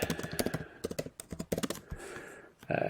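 Fast, close keystrokes on a computer keyboard come in short bursts with brief pauses, then one louder final tap, with no voice over the clicking.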